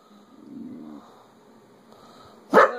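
Facing a flat screen TV, a dog gives a low, rumbling growl, pauses in near quiet, then lets out a single sharp, loud bark close by.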